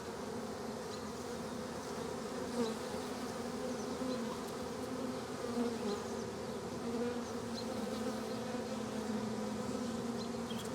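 Honeybees drone steadily around an open hive, a dense continuous buzz that stays close and even throughout with no voices.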